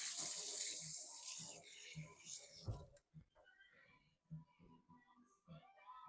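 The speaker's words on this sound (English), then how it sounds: "I'm gonna rinse my hands off" A kitchen tap runs in a loud, steady rush while hands are rinsed during flounder and crab stuffing preparation. The water stops after about three seconds, leaving soft handling noises and quiet speech.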